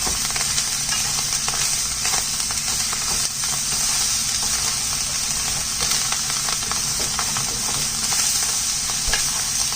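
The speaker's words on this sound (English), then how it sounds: "And now I'm going to reintroduce our veggies. Oh, whoops. Give this a nice stir." Pineapple fried rice with vegetables being stirred in a hot pan, a loud continuous sizzle with steady frying hiss and faint scraping of the utensil through the rice, with no talking.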